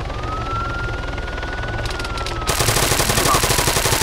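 A police car siren in the video game Arma 3 wails steadily in the background while rapid bursts of gunfire break in and dominate the second half.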